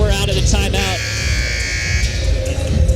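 A loud, sustained electronic buzzer sounds in a gym during a high school basketball game timeout, a steady harsh tone lasting about a second and a half under nearby commentators' talk.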